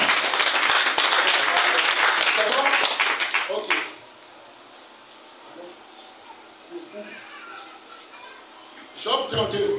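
A church congregation at a seminar in Guinea bursts into loud, dense applause and cheering to acclaim Jesus, lasting about four seconds before cutting off into quieter room murmur, with a brief swell of crowd noise near the end.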